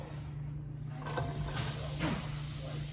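Onions dropped into hot vegetable oil in a pan, a broadband sizzle that jumps up at about one second and keeps going steadily under a constant electrical hum.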